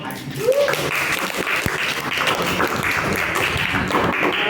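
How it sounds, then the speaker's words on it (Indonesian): A seventh-grade class applauds after a game, scattered hand claps and taps spread through a noisy room with chatter and voices running underneath. "Oke, tepuk tangan dulu"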